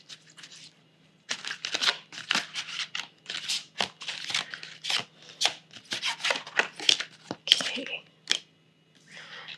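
A tarot deck shuffled by hand before a spiritual card reading, giving a close, crisp series of riffles and papery slaps in uneven bursts after a brief quiet start, with no voices.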